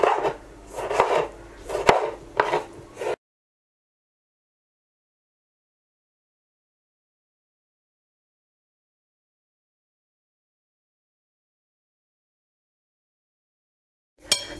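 A knife chops cucumber, green pepper and dry onion for a salad on a board, giving a quick run of close, crisp strikes for about three seconds before the sound drops to silence.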